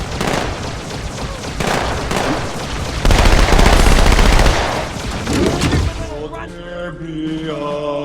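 Turret gunfire in the Halo 2 video game: a dense, sustained burst of rapid automatic shots with booming impacts that swells midway, then gives way to tonal game music.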